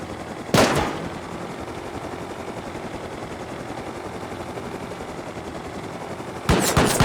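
Automated turrets in the video game Rust fire two sharp bursts of rapid gunfire, one early and one at the end, over a steady whirring drone like a helicopter.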